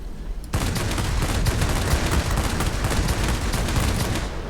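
Aircraft guns on a Me 109 TL fighter in World of Warplanes, firing a rapid continuous stream of rounds that begins abruptly after a half-second lull and holds loud and steady to the end.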